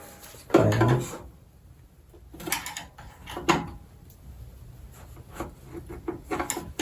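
Prying a stuck carburetor off an Ariens Deluxe 30 snowblower, close metallic scrapes and clunks in a few separate bursts, with faint rubbing and handling noises in between.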